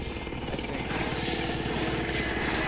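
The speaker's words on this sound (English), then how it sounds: "there's a helicopter trying to kill me" A helicopter in the video game Plunder thrums with steady, rapid rotor chopping, loud and close, with a continuous engine whine and no speech.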